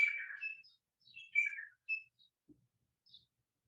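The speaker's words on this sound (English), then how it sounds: "I'm loving hearing the Hawaiian birds in the background." Several clear, high whistled Hawaiian bird calls ring out in short phrases with brief pauses, nearby against near silence.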